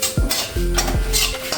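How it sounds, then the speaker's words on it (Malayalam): Raisins and ground spices stirred in ghee in a pan, a few close scraping stirs with a faint sizzle beneath, no voices. "ഉണക്കമുന്തിരിയും കൂടെ ഇട്ടിട്ട് വഴറ്റുവാണേ"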